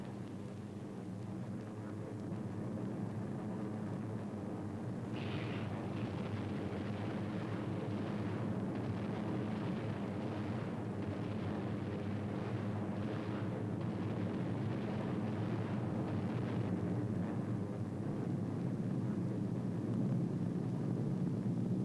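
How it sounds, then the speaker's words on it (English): Planes bomb a Japanese airstrip on Borneo's west coast in 1945, heard as a steady, dense roar of aircraft engines with rumbling blasts mixed in, continuous and loud throughout without any voices. "the Jap airstrip on Borneo's west coast was hit by 3 squadrons of Samar-based planes"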